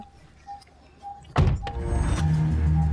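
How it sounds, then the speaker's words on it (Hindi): A car door slams shut with a sharp thunk partway through, followed by a low idling engine hum inside the vehicle. "ओए बंद कर दरवाजा।"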